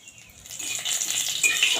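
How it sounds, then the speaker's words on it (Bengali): Cumin seeds, bay leaf, asafoetida and a dried chili frying in hot mustard oil in a pan, a steady bright sizzle that grows louder and crackles, heard alone and close. "এখানে দিয়ে দিচ্ছি জিরে, তেজপাতা আর একটু হিং ফোড়ঙ্গে, আর একটা শুকনো লঙ্কা।"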